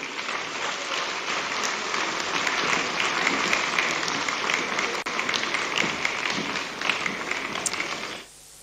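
Conference hall audience in Nigeria applauding after a speech, a long sustained wash of dense clapping at steady loudness that stops abruptly at the end.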